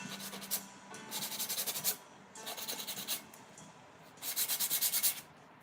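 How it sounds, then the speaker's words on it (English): Sanding block rubbed over unglazed pottery to smooth rough spots, heard as three bursts of close, dry scratchy strokes in quick rhythmic runs, with short pauses between them. "I will grab my sanding block and"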